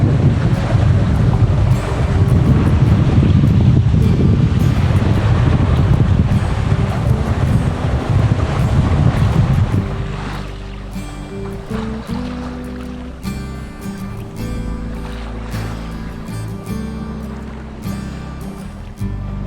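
Wind and waves around a sailboat under full sail in a fresh breeze with small whitecaps: loud, buffeting wind noise and rushing water for about ten seconds, then quieter background with music taking over.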